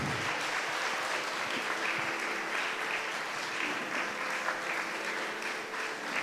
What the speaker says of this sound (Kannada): ಒಮ್ಮೆ ಜೋರಾದ ಚಪ್ಪಾಳೆಯೊಂದಿಗೆ ಅಭಿನಂದಿಸೋಣ.